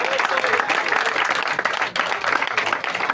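Dense crowd applause at a cricket match awards ceremony, loud and continuous steady clapping from many people close by.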